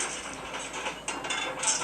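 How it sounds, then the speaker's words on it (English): Cartoon train wheels rattle and clatter over bumps in a busy, continuous mechanical chatter of clicks and knocks, close and fairly loud, with no voices. "Duncan raced backwards and forwards, rattling and clattering"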